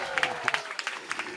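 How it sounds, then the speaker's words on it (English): Audience applause at a Kartik Parikrama gathering in Rangadevi's forest, a short burst of scattered clapping with uneven peaks and crowd noise beneath. "2 rounds of applause."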